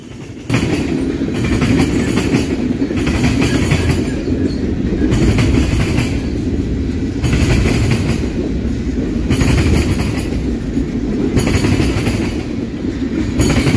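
A City Rail train passes on the tracks close by, a steady loud rumble with rhythmic clickety-clack of wheels over rail joints and faint squeal, sustained throughout without talk.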